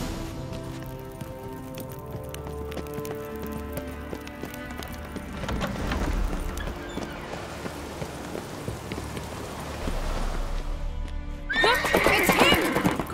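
Music plays under galloping hoofbeats in The Witcher 3, then a horse gives a loud, shrill whinny near the end; faint voices are mixed in.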